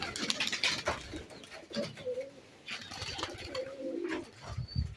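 Pigeons coo in a sparse loft, with soft repeated calls and some fluttering and shuffling close by, carrying on steadily with no talk.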